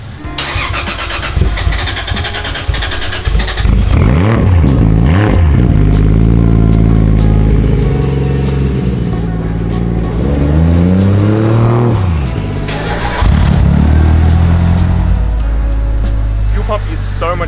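An old turbocharged Mitsubishi Lancer engine starts and revs hard several times, swelling and dropping in loud, close surges with a rough idle between, while voices talk over it.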